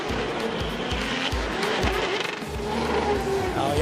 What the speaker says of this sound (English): So can catch that engine noise, kind of just shutting down, and then a little bit of sputtering.